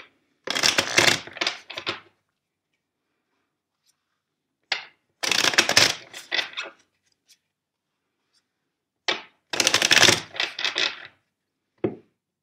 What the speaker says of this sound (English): let's shuffle the deck three times for you